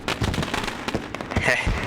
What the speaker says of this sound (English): And oh look, fireworks.